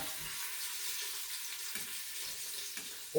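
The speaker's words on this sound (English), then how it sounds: "we're going to sear these shanks right now" Meat shanks sear in a hot pan on medium-high heat, giving a steady, close sizzle that holds constant throughout with faint clinks and no talking.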